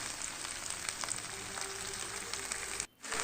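Ivy gourd leaves frying with onion and oil in a pan give a steady, close sizzle with soft crackles, then the sound drops out briefly near the end.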